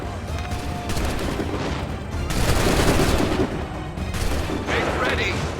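Musket volley fire in the Assassin's Creed 3 video game: loud, dense bursts of gunfire that swell and overlap for several seconds, with shouted commands mixed into the noisy battlefield din.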